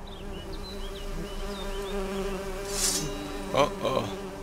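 A swarm of bees buzzes in The Witcher 3, a dense, wavering drone close by with individual bees whizzing past, no one speaking.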